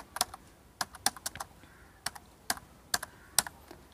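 Keys are typed on a computer keyboard while entering text into a Microsoft Excel spreadsheet, heard as close, crisp clicks that come in short irregular bursts and single taps, with no voice over them.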